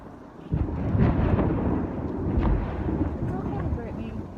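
Deep, rolling thunder rumbles low and continuous after a lightning flash during a rainstorm, swelling twice over steady rain and wind noise.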